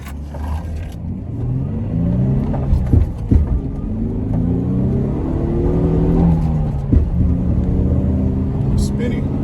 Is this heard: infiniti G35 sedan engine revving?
yes